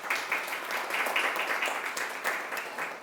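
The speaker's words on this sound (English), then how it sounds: "Let's give her another round of applause" An audience at a university Gavel Club speech competition gives a steady, dense round of applause for a speaker, sustained and moderately distant throughout.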